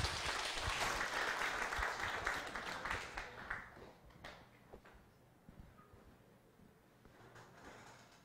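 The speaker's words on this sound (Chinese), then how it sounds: "请大家以热烈的掌声欢迎" Audience applause greets a guest lecturer at a Taiwan history class, a dense burst of clapping that fades gradually over several seconds into a quieter room.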